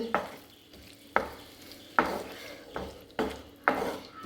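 A spoon stirs Mangalore-style fish masala on a tawa in a steady series of about six scraping strokes, each a sharp close knock against the pan over a faint sizzle.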